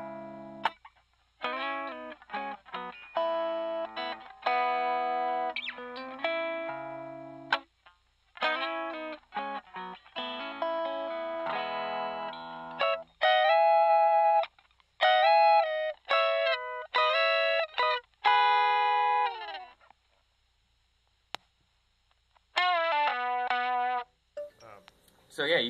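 An electric guitar runs through pedals into a mic'd Smokey amp, playing clean, clear chiming phrases and chords in bursts with short pauses between them, close and upfront with no talking.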